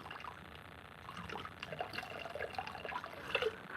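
Water spilling out of a handmade pottery vessel, faint trickling and dripping with small splashes scattered irregularly, heard close but quiet.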